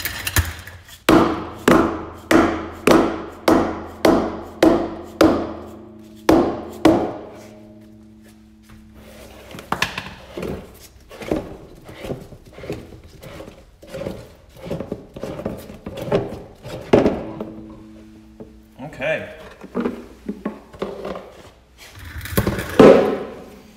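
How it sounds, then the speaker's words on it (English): A new dead blow hammer strikes a homemade lawn roller drum again and again, giving dull, thudding whacks. They come in a fast regular series at first, then in irregular bursts with some ringing hits, close and loud with no talking. "I'm gonna grab my dead blow hammer and maybe try to give this a couple whacks to try to start to spin it."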